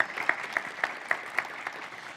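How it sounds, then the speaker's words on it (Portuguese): Applause from an audience at a corporate communications leadership event as a Renault Geely do Brasil communications manager is introduced: a thin, steady patter of clapping from a modest crowd, moderately distant, with regular louder claps standing out. "Palmas para Fernanda."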